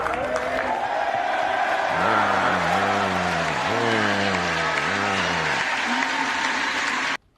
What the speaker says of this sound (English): only half the chamber is applauding the McCarthy being elected